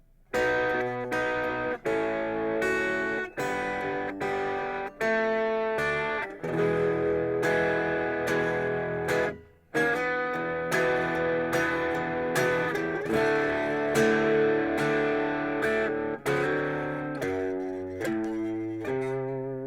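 Guitar plays the pickup line of a song in a steady phrase of distinct plucked notes with ringing harmonics, a brief pause near the middle, then the line continues to the end.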